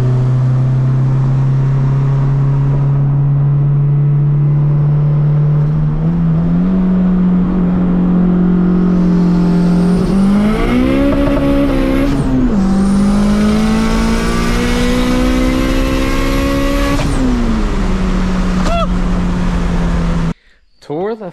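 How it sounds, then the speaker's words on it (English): Honda EG hatchback with a D2B engine doing a third-gear pull from 60 mph, the engine droning loud and close as it climbs steadily in pitch, with a brief dip and recovery midway before cutting off near the end. "We're gonna do a third gear pull from 60 miles an hour."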